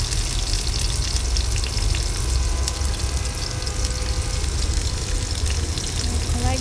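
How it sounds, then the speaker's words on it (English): Onions go into a hot pan of softened garlic for tomato spaghetti, giving a steady, loud, broadband sizzle that runs without a break from start to end. "And now I'll immediately add the onions."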